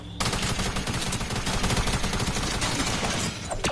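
Rapid automatic gunfire from the Fortnite video game, a loud continuous burst of close, dense shots lasting a few seconds with no talk over it.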